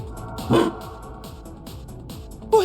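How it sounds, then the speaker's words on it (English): A dog barks in the video game Trails Beyond the Horizon, two short, clear barks spaced about two seconds apart over soft background game music. "Is that a dog?"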